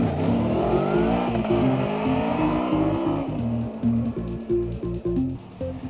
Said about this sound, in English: The V4 motor delivers the 97 brake horsepower smoothly throughout the revs, sounding a little like a Ducati up to a point.